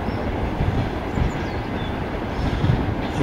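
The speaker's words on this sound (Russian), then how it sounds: "Это что за поезд пошел?" A passing train, likely hauled by an electric locomotive, rumbles steadily close by for the whole span, with rolling wheel noise and faint rhythmic clatter from the cars.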